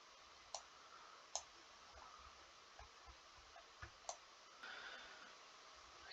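Computer mouse left clicks, a sparse series of small sharp ticks spaced irregularly across quiet room tone, close and with no talking.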